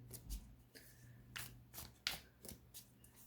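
Steampunk Tarot cards being shuffled by hand: soft close riffles and slides in short bursts with small taps between them, quiet, with no one speaking.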